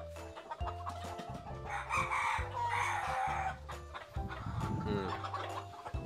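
Chickens at a Tây Ninh gamecock farm, young birds among them, cluck and crow throughout, with a rooster's crow rising in the middle and a steady low hum beneath the flock.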